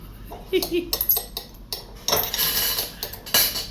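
Spoon and fork clink and scrape against a plate during a meal, with sharp close taps and rattles coming in quick clusters, and a voice speaks among them.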